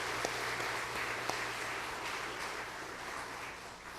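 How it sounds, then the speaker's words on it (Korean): A church congregation applauds to congratulate a couple getting married, a steady, dense wash of clapping that holds evenly for several seconds with a few sharper claps standing out. "먼저 박수로 축하해 주시기 바랍니다"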